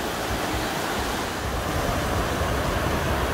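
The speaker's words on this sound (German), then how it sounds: "Da kommt jetzt eine Menge Wasser." Rushing water of the Areuse river, a steady, full broadband roar with no gaps, close and loud throughout.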